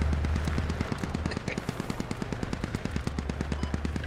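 Rapid, evenly spaced bursts from a 30 mm cannon in the military shooter Squad, a steady rhythmic thumping of rounds fired from a distance over a low engine drone, fairly loud and without talk.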